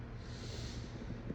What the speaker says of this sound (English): I gotta blow my nose and shit.